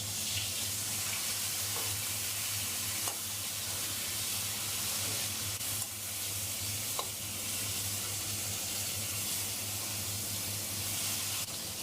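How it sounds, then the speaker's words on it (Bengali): Hilsa fish head, rubbed with salt and turmeric, frying in hot mustard oil gives a steady, close sizzle throughout, with a few soft stirring knocks and no talking. "তেল গরম হয়ে গেছে, মাছের মাথা ভেজে নেব।"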